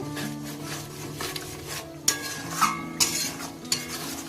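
Kashmiri red chili masala being stirred into mutton in a kadai, soft frying sizzle under rubbing strokes and a few distinct clinks of a spoon against the pan, close and fairly quiet, no talking.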